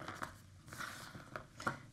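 Scissors snip through a kumihimo braid cord, giving a few faint, quick crisp cuts close by in a quiet room.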